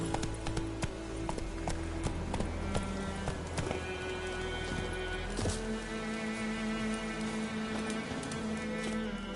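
Roach the horse galloping in Witcher 3, a steady patter of hoofbeats under a dense, busy ambient bed with scattered clicks and tonal game sounds, moderately quiet and continuous throughout.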